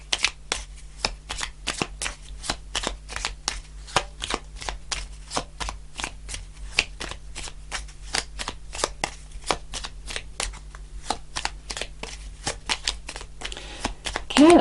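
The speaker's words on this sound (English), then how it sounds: "let's do a couple more shuffles" Rapid riffle-shuffling of tarot cards, a dense run of crisp snapping clicks repeating steadily up close, with a low steady hum underneath.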